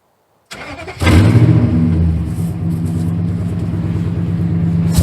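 A Nissan Titan truck engine cranks and fires after a short silence, then settles into a steady, loud, close idle with a low rumble.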